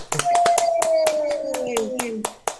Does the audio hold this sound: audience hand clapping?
yes